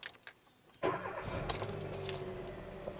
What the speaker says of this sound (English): So let's start the vehicle up and see,